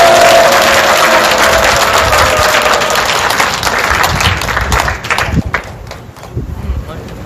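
An audience at a seminary lecture applauds to welcome a visiting pastor, dense clapping loud and close for about five seconds, then tapering into a few scattered claps.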